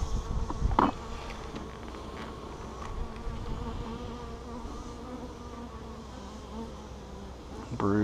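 Honeybees buzzing at a top bar hive opened for inspection, a steady close droning hum throughout with a few brief bumps and handling noises, no talking.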